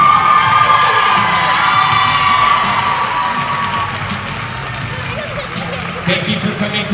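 A crowd at a high school volleyball match cheers and shouts, loud at first and gradually easing, with a few sharper yells near the end and an announcer's voice over the noise.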